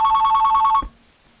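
A telephone bell rings loudly in rapid pulsing trills, then cuts off abruptly with a click into near silence.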